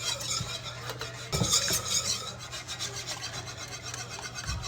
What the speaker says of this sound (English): Make sure you keep whisking it so it's not grainy